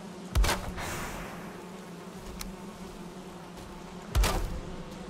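Bees drone in a steady, close buzz around beehives in the game Valheim, with a couple of louder thumps standing out over the constant hum, and no talking.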